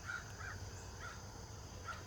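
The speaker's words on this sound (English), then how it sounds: "Listen to them crows." Crows caw four times in a garden on a quiet morning, short separate calls from some distance, faint over a low steady background hum.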